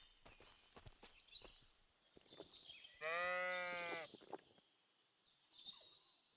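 Sheep bleating in the video game Kingdom Come: Deliverance II, one clear, wavering bleat mid-way over quiet outdoor ambience with faint bird calls and scattered soft knocks.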